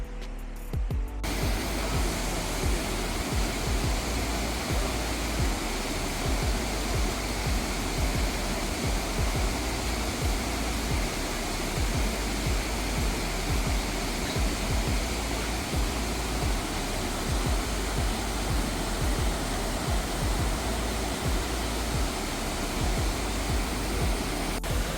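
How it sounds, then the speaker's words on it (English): Waterfall near Dunkeld and Aberfeldy in Scotland, a steady, loud roar of falling water that stays constant and close for the whole stretch, with no voices. "And then there's another waterfall up there, and I'll see if I can get something out of that."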